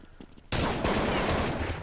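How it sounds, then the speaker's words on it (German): A loud burst of gunfire in Counter-Strike on the de_dust2 map cuts in abruptly after faint background noise, followed by a dense continuous rattle of shots and echoing reports. "Schöner Schuss von Zanoi."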